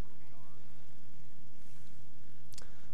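Steady low drone of a Kingfisher propeller plane engine in a flight combat game, a continuous hum holding at even loudness with a brief sharp click near the end.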